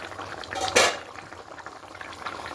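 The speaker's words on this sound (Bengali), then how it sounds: "ঝোলটা ফুটতে শুরু করে দিয়েছি" Katla fish curry broth with potatoes bubbles in a covered pot, a soft, steady simmer with one brief louder clatter near the start.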